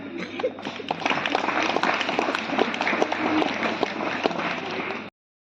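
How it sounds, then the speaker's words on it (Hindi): A church audience at a Sunday School Day event gives the judges loud, sustained applause, a dense wash of many hands clapping with some crowd murmur, before cutting off abruptly. "हम लोग इनके लिए भी बहुत जोर से ताली बजाएंगे"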